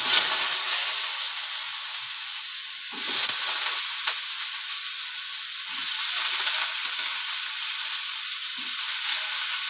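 Potato chorchori cooking in oil tempered with five-spice and dried red chilli: a continuous, moderately loud hiss of frying that swells after a few seconds and holds steady, with no talking.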